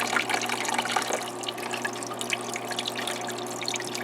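Water trickles steadily from an aquarium waterfall in a red clawed crab tank, with close splashing and dribbling and no voices over it.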